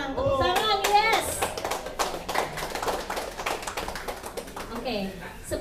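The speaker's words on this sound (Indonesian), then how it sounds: "Tepuk tangan, yes." Audience at a gathering clapping in scattered, uneven bursts, close and moderately loud, mixed with people talking throughout.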